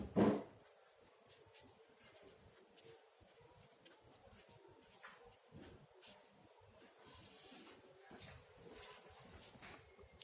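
Pen scratching across paper during a Class 9 maths lesson, a faint steady run of short strokes and rubs with small bursts, quiet and close, no voices over it.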